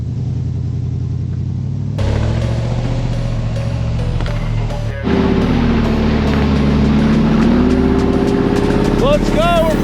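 A rear-steer rock buggy fitted with snow tracks drives over snow, its engine rumbling loudly and revving up and down, with a brief shout near the end.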